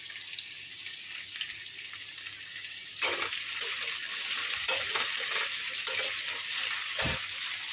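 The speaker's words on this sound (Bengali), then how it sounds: "তেলের মধ্যে কালো জিরে ফোড়ন দিয়ে আলুটা ভাজতে বসিয়ে দিয়েছি" Steady hissing sizzle of potatoes frying in hot oil tempered with nigella seeds, growing louder partway through, with occasional scraping stirs.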